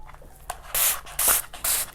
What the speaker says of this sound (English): I have this spray bottle that I got from Ulta